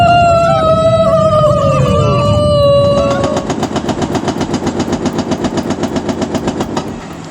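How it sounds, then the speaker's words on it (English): Rising warning tones sound first, then a controlled explosion demolishes unfinished, abandoned buildings in China as a rapid, evenly spaced string of loud charges cracks off for several seconds. "These buildings have now been demolished through a controlled explosion, reportedly one of the largest demolition operations of its kind in China."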